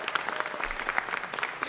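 Audience applause for a councilwoman at a city council meeting, a steady patter of many hands clapping, moderately loud and continuous throughout.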